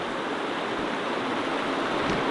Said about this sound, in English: it's a very nice creek, running good.